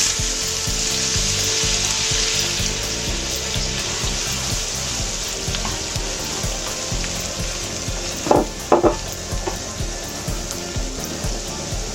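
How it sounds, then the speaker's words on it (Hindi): Onions and cinnamon sticks frying in hot oil for aloo qeema, giving a loud, continuous close sizzle, with a few sharp stirring clicks late on and no talking. "अब हम इस ऑयल में दालचीनी और सिनेमन स्टिक डाल देंगे, थोड़ा सा पका के। फिर हम इसमें अनियन डाल देंगे।"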